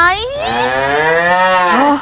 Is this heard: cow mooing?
yes